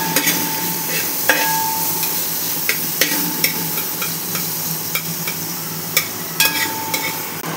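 Onions sautéing in a pan over a medium flame for potato biryani, a continuous sizzle broken by sharp periodic clacks of a spatula against the pan, no talking.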